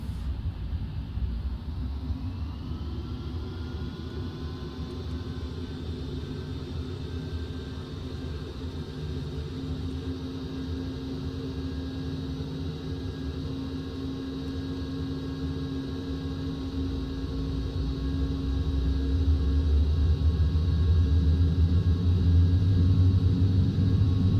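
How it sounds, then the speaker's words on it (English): An airliner in Microsoft Flight Simulator X spools up for takeoff, a steady engine roar with a rising whine that builds and deepens into heavier rumble as it accelerates down the runway, continuous and without voices. "Here goes takeoff."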